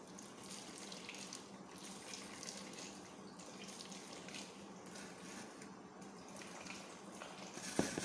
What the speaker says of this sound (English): So I'll be adding warm water